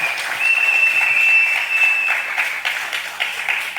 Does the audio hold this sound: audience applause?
yes